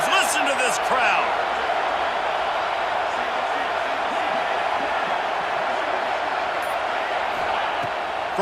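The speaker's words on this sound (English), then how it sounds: "Listen to this crowd." A packed college football stadium crowd at a Colorado vs SMU game roars in a steady, dense, unbroken wall of noise, with a commentator's voice running faintly through it.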